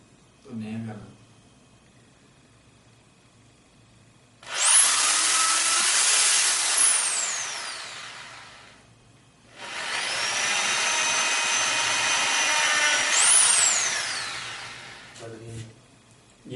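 A power drill bores a hole in a part for a homemade rocket, in two long sustained bursts of high whirring and grinding, each several seconds long, with brief talk before and after.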